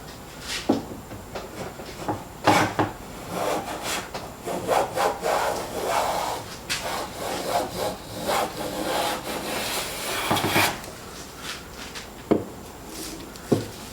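A hand plane pulls thin, long shavings off a wooden board in repeated strokes, each a close, rasping swish with soft knocks between passes.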